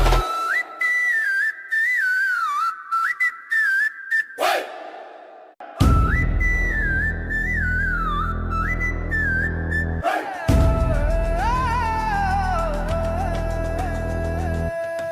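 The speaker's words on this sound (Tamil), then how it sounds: "காதுல கேக்குத விசில்" Whistled melody rising and falling over a thumping beat, loud and sustained, with the accompaniment dropping out briefly midway.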